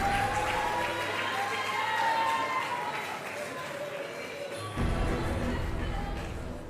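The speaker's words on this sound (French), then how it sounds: "Est-ce qu'on peut encore une fois de plus les applaudir?" A live talent show final audience fills the hall with sustained crowd noise that swells with renewed applause and cheering near the end, loud and continuous.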